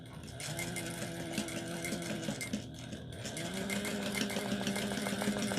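Sewing machine top-stitching a vinyl crossbody bag: rapid, rhythmic mechanical needle chatter with a humming motor, a brief pause near the middle, then steady stitching resumes.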